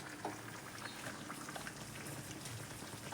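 Food sizzling in hot oil in a home kitchen, a dense, steady crackle and bubbling with fine popping throughout, close and continuous.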